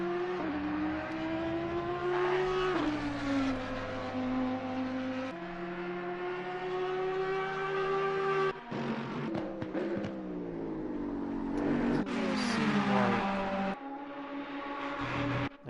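Ferrari GT race cars battling wheel to wheel in the Assetto Corsa Competizione racing game at Spa, engines roaring loudly and continuously with rising and falling revs through gear changes and close passing.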